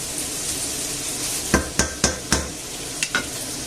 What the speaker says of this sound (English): let's give this a stir about